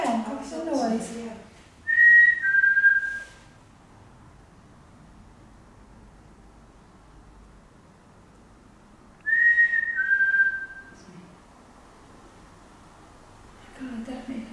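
Unexplained whistling during a ghost hunt in the old Newsham asylum: two short, thin rising-then-falling whistles about seven seconds apart over quiet room hiss, with hushed voices talking before and after.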